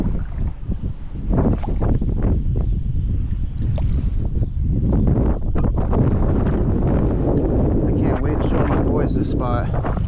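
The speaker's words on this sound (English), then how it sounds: "Really windy though." Strong wind buffets the microphone continuously while wading inshore on a cold, windy day with a negative tide, a loud broadband rumble with gusts throughout, and some talk mixed in.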